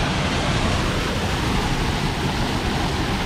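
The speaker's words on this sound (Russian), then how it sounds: "Смотрите, водопад нашел." A broad, continuous rushing roar of falling water fills the air, steady and loud without pause or voices.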